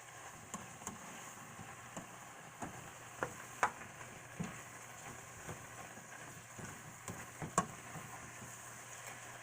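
Shrimp cooking in a pan with butter, onions, garlic and seasonings for risotto, giving a faint steady sizzle broken by scattered small ticks and clicks of a utensil, with no talking.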